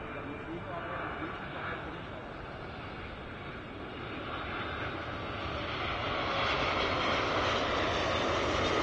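A United Airlines airliner arrives at Brussels Airport, its engines a broad, steady roar heard from a distance that slowly swells louder toward the end.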